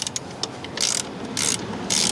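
Ratchet loosening an axle bolt on a Polaris Scrambler 500 ATV, a few quick clicking strokes followed by three longer ratcheting pulls, close and crisp.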